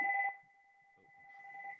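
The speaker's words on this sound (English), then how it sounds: "Sorry about that phone." A telephone rings in a quiet room with a steady two-tone electronic trill that holds for nearly two seconds. There is a soft thump near the start, and a faint murmur of voices sits underneath toward the end.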